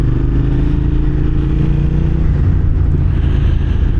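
A 2006 Suzuki SV650S motorcycle engine runs close and loud in a steady, dense drone with no clear break or distinct pops, holding an even level throughout.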